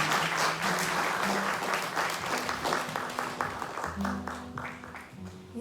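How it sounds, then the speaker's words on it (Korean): An audience at a memorial performance claps steadily, many hands forming a dense, lively patter with a faint tone and murmur underneath. "박수 부탁드립니다"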